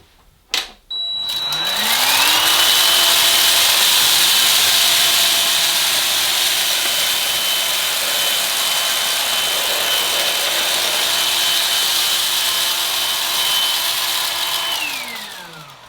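A budget Goblin 2-in-1 cordless stick vacuum cleaner runs on full power over a hard floor, a steady loud motor whine with a rising start and falling end after a brief click.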